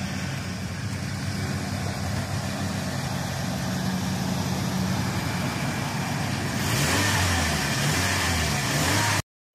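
A 2000 Toyota Tacoma SR5 engine runs at a steady idle, a low continuous hum that grows slightly louder and fuller near the end, with no talking.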